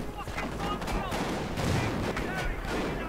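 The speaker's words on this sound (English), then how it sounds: "Will it make it out of the heavy machine gun firing in support?" Heavy machine gun fire in a wartime strategy video game, a dense and continuous battle din of rattling bursts and explosions running throughout.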